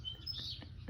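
Small birds chirping at a bird feeder, a few short high tweets close by over steady low background rumble.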